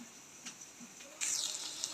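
Bitter gourd and potatoes frying in oil, a faint low sizzle with a few small stirring taps that swells into a brighter, louder crackling hiss partway through, close by.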